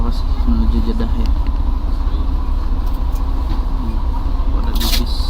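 A bus heading to Jeddah airport rumbles along with a loud, steady low engine drone and road noise that never lets up, and a brief rattle near the end.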